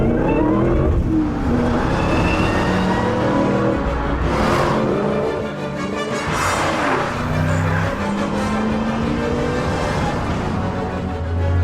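A supercharged V8 car engine revs and accelerates hard in first gear, loud and close, its pitch climbing and falling in repeated surges with short gaps between throttle blips.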